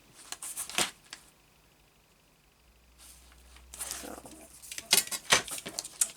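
A craft knife drawn along a ruler to cut a sheet of paper in half, heard as short scratchy scraping strokes close up, quiet and without talk, with a few brief bursts near the end.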